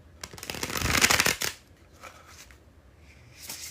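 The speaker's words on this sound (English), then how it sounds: "the bridge shuffle." Playing cards riffled in a bridge shuffle, a loud rapid fluttering burst lasting over a second, followed by a few faint soft taps and shuffling.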